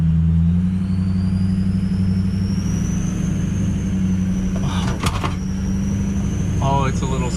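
Ford F350 truck in four-wheel drive laboring up a steep hill, its engine a steady low rumble throughout with some clunks and rattles near the end, while a person speaks over it.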